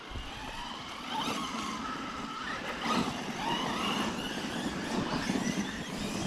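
HobbyKing Berserker RC car fitted with a Castle 1515 motor, its wheels spinning and skidding on the ground, giving a scrappy, fluctuating whine and scuffing squeal of tyres at moderate distance with no talking.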